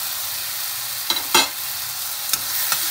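Potatoes, cauliflower and tomatoes fry and get stirred in a pan for poha, a steady close sizzle broken by a few sharp spatula scrapes, with no talking.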